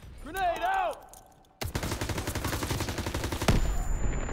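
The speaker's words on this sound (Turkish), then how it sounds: "Oo, patlama." Explosion and gunfire in the World War II video game Call of Duty WW2: a sudden loud blast followed by sustained rapid gunfire, with a deeper boom near the end, after a brief stretch of game dialogue.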